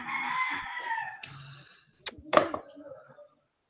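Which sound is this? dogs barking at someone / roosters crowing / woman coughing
roosters crowing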